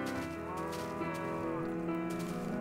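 A Minecraft cow mooing, one loud, near, drawn-out low moo heard on its own.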